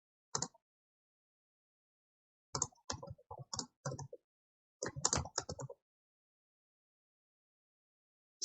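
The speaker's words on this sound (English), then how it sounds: "so let's type a comment" Short bursts of computer keyboard typing, quiet and close, come in three clusters of rapid clicks separated by silent pauses while a comment is entered.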